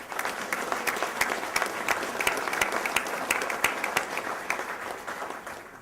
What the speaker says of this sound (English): Would you please join me in a round of applause saying thank you to our title sponsor, Tony McCune